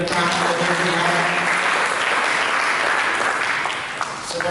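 Sustained applause from a church congregation fills the room, strong and even for most of its length and easing slightly toward the end.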